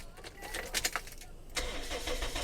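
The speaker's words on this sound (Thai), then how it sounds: "รถสตาร์ทติดง่ายๆครับชึ่งเดียวติดเลยครับ" A 2006 Toyota Vios engine cranks with a few uneven bursts, then catches and settles into a steady low idle, heard from close by.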